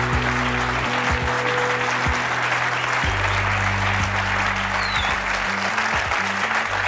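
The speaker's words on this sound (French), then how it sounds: "Je vous demande de l'applaudir chaleureusement" Steady, enthusiastic applause from a television studio audience, loud and dense throughout, with sustained clapping and no clear voices above it.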